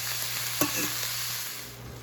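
Onions and peppers fry in a pan for breakfast burritos, giving a steady close sizzle broken by one brief scrape of stirring.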